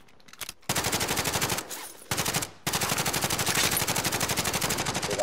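Automatic gunfire in the Call of Duty: Modern Warfare video game, loud rapid bursts of shots near the listener, broken by two short pauses, with no talking over it.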